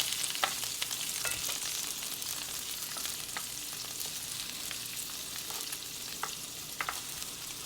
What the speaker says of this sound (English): You want to turn them over in the pan.